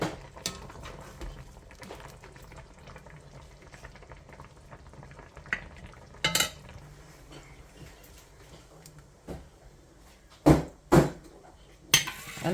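A pot of fish boils for okra and ogbono soup, a low bubbling patter, then the pot is lifted off the fire with a few loud metallic clanks of pot and utensils near the end.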